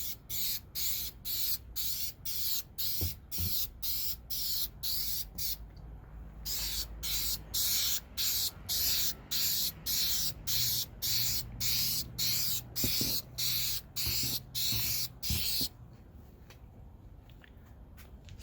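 A car headlight getting its last coat from a spray can, with about two dozen short, sharp hissing bursts in a regular rhythm, close and loud, broken by a brief pause partway through.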